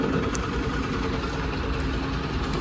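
A Honda Activa scooter engine runs at idle just after starting, a steady low rumble that holds evenly throughout with no talk over it.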